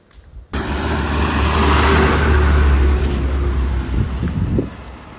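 A vehicle pulls up on a rural Konkan village road, its engine revving loudly and rising in pitch before easing off, close by with no talk.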